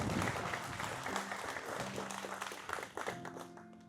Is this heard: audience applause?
yes